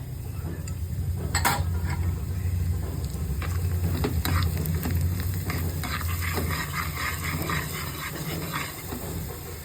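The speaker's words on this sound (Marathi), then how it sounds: "रवा छान लालसर होईपर्यंत आपण ह्याला छान भाजून घेऊया" Semolina roasting in ghee in a pan for sweet sheera, with a steady soft sizzle and occasional scraping and stirring clinks of a spoon against the pan throughout.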